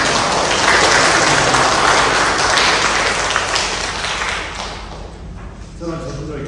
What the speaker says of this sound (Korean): 박수로 우리 찬양해 주십니다.